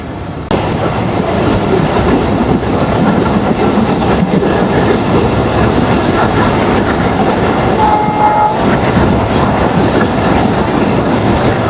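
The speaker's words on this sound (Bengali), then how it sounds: "এই মংলা কমিউটার ট্রেনের গতি হচ্ছে ঘন্টায় 80 কিলোমিটার" The Mongla local commuter train runs out of Khulna at about 80 km/h, a loud continuous rumble of wheels and carriages with rhythmic clatter and a brief horn-like tone near the end.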